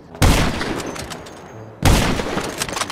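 Rockets fire and explode in a video game with two heavy, booming blasts about a second and a half apart, each one loud and close and trailing off into a rumbling tail.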